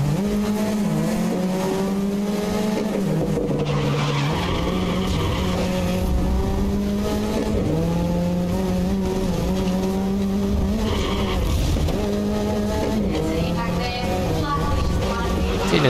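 A racing car in the video game Grid 2019 roars with a strained, near-flat-out engine whose pitch rises and falls through gear changes, with tire squeal mixed in, loud and continuous throughout.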